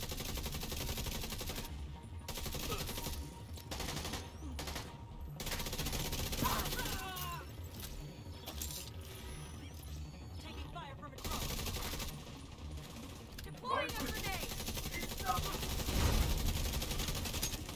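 Rapid bursts of Capacitor weapon fire in The Division 2, dense and continuous through the whole stretch with scattered combat effects, a busy loud firefight.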